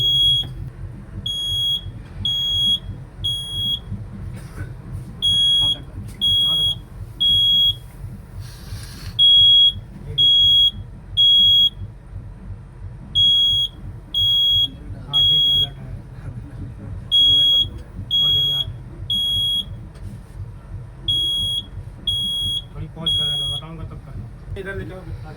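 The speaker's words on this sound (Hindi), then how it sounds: "अभी देखिए कोच में फायर अलर्ट आ चुका है, एक्शन मोड में आ चुका है।" Pulsed beeping of a fire alarm in a train coach, set off by a smoke test, sounds in regular clusters of short tones across the whole span, with low rumbling machinery and occasional voices beneath.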